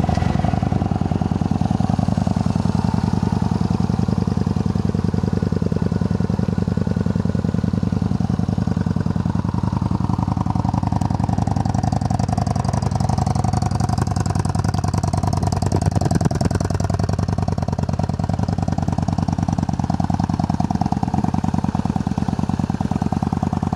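A Yamaha Star Bolt R Spec V-twin with about 9,400 miles idles close up, giving a steady, loud, throaty rumble with an even pulsing beat throughout, no other sounds.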